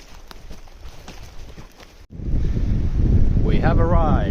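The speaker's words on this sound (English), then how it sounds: "It seems to be pretty windy" Wind gusting over a shoreline in the Finnish archipelago, strong low rumbling buffeting the microphone after footsteps and rustling, loud and close, with a brief tonal whistle near the end.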